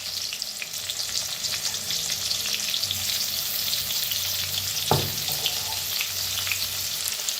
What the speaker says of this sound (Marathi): तेल चांगलं गरम झालेलं आहे, त्याच्यात टाकूया लसूण आणि चेचून घेतलेलं बारीक असं